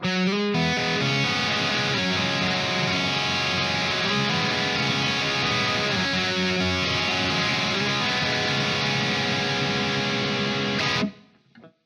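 Electric guitar run through an Amped ICON amp on its Grungy Low Gain preset, a dense, gritty distorted tone played continuously and loud for about eleven seconds before stopping abruptly near the end.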